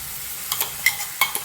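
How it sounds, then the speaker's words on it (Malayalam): Crushed ingredients fry in coconut oil with a continuous soft sizzle. A few sharp scraping taps from stirring break in toward the end. "ഇനി നമുക്ക് നമ്മൾ ചതച്ച് വെച്ചിട്ട് ഇട്ട് കൊടുക്കാം കേട്ടോ. അപ്പോൾ നന്നായി മൂത്ത് വരണം."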